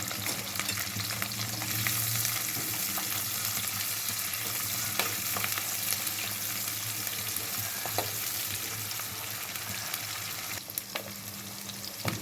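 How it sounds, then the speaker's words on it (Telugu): Onions and tempering spices frying in oil for a tomato gongura curry, a continuous close crackling sizzle with occasional sharper pops and stirring scrapes, no talk over it. "ఆనియన్స్ తాలింపు దినుసులు వేగుతూ ఉండగానే"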